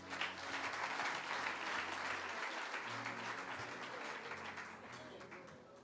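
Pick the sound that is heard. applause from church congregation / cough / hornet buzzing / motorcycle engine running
applause from church congregation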